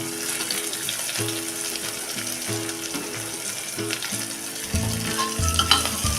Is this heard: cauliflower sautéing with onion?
yes